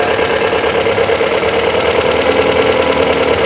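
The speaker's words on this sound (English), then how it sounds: "Idle raised and then it dropped back down." A Volvo 544 engine with SU carburetors idles steadily, a close, loud, even mechanical drone with a slight ticking texture as the idle is checked during carburetor adjustment.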